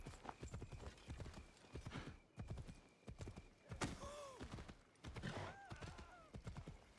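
Rhythmic hoofbeats of a horse in the video game Assassin's Creed Shadows clop along at a steady pace, with a couple of brief whinnying sounds rising above them midway and near the end.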